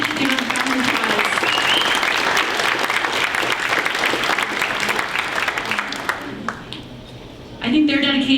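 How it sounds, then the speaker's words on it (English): A full audience round of applause at a charity celebration event, dense and steady for several seconds before tapering off, then a voice begins speaking near the end. "So I want to take a moment to celebrate and give a round of applause."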